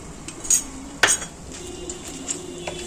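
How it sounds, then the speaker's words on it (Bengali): Leftover rice being fried with nuts and egg in a pan, with a utensil striking the pan in a few sharp metallic clinks over a low, quiet background. "এবার আমি ভালো করে নাড়াচাড়া করবো"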